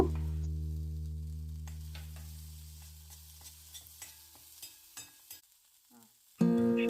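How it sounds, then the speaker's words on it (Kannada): Half a tomato is stirred into a hot pan for boondi curry, giving soft sizzling and scraping stir strokes after a fading electronic hum, then a sudden louder burst near the end. "ಇವಾಗ ಟೊಮ್ಯಾಟೊ ಹಾಕೊಳ್ತಾ ಇದ್ದಾರೆ ಅರ್ಧ ಟೊಮ್ಯಾಟೊ"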